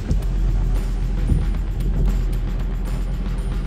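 A 2023 Ford Mustang GT convertible is on the move, its engine giving a steady, continuous low rumble with road noise and no talking.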